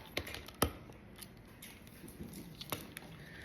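Sharp scissor snips cutting something off, a few crisp clicks spaced through a quiet room, one louder cut near the start and another later on.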